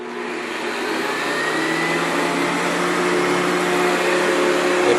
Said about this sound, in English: It's really the best vacuum I ever had. But let's fire it up and see how good it works.